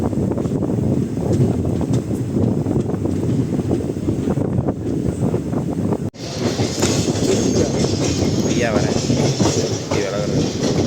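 Mysuru-Sengottai express train rolling steadily along the rails, heard from on board as a loud continuous rumble with faint rhythmic clatter and wind, unbroken for the whole stretch.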